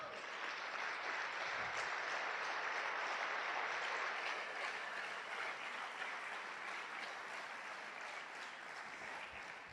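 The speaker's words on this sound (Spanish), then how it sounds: "¿Puedes darle un aplauso a Dios?" A church congregation applauds in a long, even wave of clapping from a large crowd, heard at a moderate distance and sustained without a break for about ten seconds.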